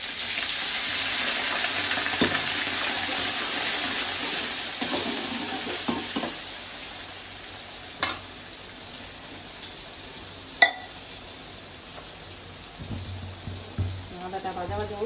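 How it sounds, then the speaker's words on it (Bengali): Chopped ginger fries in a pan with green chilies, a soft continuous sizzle under a few sharp utensil clicks and stirring scrapes, with faint background voices. "আদাটা ভাজা ভাজা হোক"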